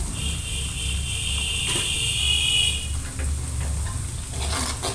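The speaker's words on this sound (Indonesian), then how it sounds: "Tumis bumbu sampai benar-benar tercium bau harumnya." Spice paste sautéing in a pan for tofu bacem, a steady close sizzle with light stirring scrapes throughout, no talking.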